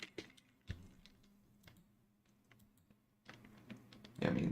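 Keystrokes on a computer keyboard during a live premarket stock-watchlist session, tapping out in irregular quiet clicks and short bursts, with a louder cluster of taps near the end.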